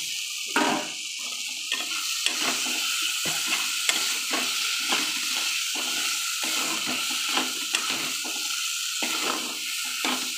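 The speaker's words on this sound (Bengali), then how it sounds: "এবার ভাজা আলুগুলো বন্ধুরা দিয়ে দেবো।" Boiled potatoes sizzle in a frying pan while being stirred, a steady frying hiss broken by regular scraping strokes of the spatula every second or so, close and fairly loud throughout.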